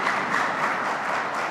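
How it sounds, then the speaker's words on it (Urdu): Loud, dense applause fills a church service hall, many hands clapping together in a steady, continuous wash that stays up close and even throughout. "آئیے خدا کے جلال کے لیے زوردار تالیاں بجائیں"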